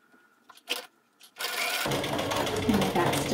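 A sewing machine stitches over ribbon ties on a fabric face mask, starting after a few faint knocks and then running as a steady, fairly loud mechanical whir to the end.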